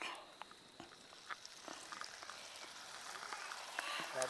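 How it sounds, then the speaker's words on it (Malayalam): Pakkavada fritters fry in hot oil in a kitchen, a faint steady sizzle scattered with small pops and crackles that builds slightly toward the end. "ഇനി എല്ലാം നമുക്ക് ഇതേപോലെ അങ്ങോട്ട് പൊരിച്ചെടുക്കാം"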